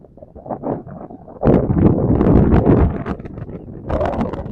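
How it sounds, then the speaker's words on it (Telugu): Strong gusts buffet the microphone in rough, uneven bursts at NN Patnam, with trees swaying, loud and close, with no voices present. "ఎంత గాలి వేస్తుందంటే"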